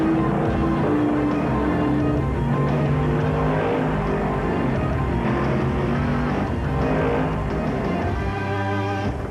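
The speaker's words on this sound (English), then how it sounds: "The Miller Genuine Draft Rusty Wallace stock car. It's tearing up tracks everywhere." A Miller Genuine Draft Rusty Wallace stock car roars continuously, engine tones shifting and rising as it races, loud and close with no voices over it.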